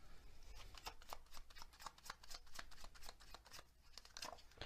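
Tea leaf oracle cards shuffled by hand, a steady run of crisp riffling snaps and flutters, close and moderately loud throughout with no talking.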